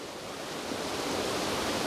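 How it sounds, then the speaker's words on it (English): Steady roar of a secluded waterfall beside a creek, a dense, continuous rush of falling water heard up close, unbroken and even across the whole moment with no voices. "here we are, right next to the falls"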